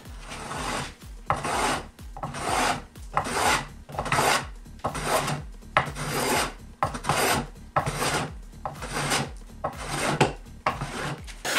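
A hand plane cuts a chamfer along a wooden edge, giving a series of about a dozen rasping, shaving strokes in a steady back-and-forth rhythm, close and fairly loud with short pauses between passes.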